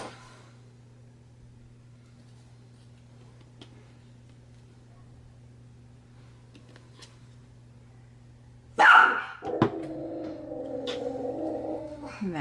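After a long stretch of quiet hum, a dog suddenly barks sharply once or twice nearby, followed by a whining, tonal yelp.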